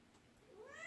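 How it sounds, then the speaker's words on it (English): A cat gives a single short, faint meow that rises in pitch at the end, heard up close in a quiet room with no one talking. "That is Jareth the cat"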